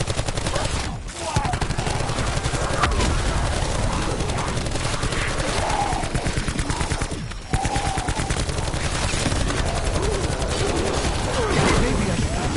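Rapid, continuous gunfire from Call of Duty Black Ops 4 Zombies, dense automatic bursts and fusillades filling the whole stretch, loud and close, with two brief breaks around the first and seventh seconds.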